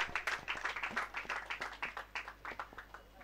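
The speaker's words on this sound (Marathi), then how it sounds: "एकदा जोरदार टाळ्या झाल्या पाहिजेत मित्रांनो." Audience clapping at a prize ceremony, a short burst of rapid hand claps, moderately faint and fairly thin, as if from a small crowd.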